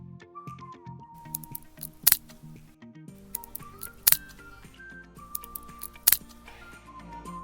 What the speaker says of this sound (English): Some components inside the fridge expand and contract with temperature changes, which in turn makes some snapping sounds